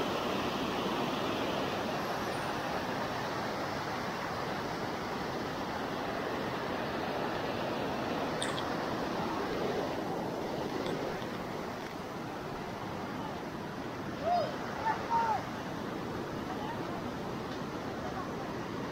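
Waterfall water at Bunsuran Falls in Calawis, Antipolo, Rizal rushes in a steady, loud, unbroken roar throughout, with a couple of faint brief voices near the end.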